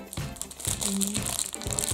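A pink plastic surprise packet with a black stripe crinkles and crunches in repeated bursts as it is torn open, close and clear.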